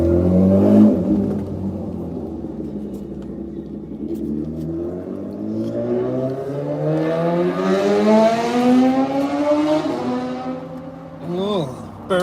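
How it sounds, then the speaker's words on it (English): A motorcycle engine revs up through rising, stepped pitches, loud and fairly close, with a steady drone beneath and a quick rev burst near the end; speech is likely present. "and the motorcycle."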